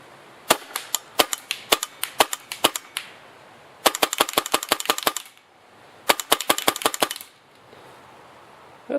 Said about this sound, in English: So we'll start off just with some semi-auto, shooting at that tree down there.